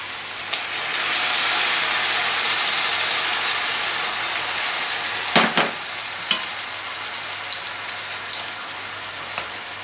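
Red wine poured into a hot pot for Bulgarian pork guivech with garlic, a steady broad sizzle and hiss lasting throughout, with a few clinks and stirring knocks near the end, no voices.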